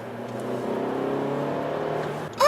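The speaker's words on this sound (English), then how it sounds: "I'm sitting in an Alfa Romeo Mito, the most powerful Mito you can get" The engine of an Alfa Romeo MiTo Quadrifoglio Verde, the most powerful MiTo, hums steadily at close range from inside the car, a low droning tone held for a couple of seconds before a brief rising whine at the end.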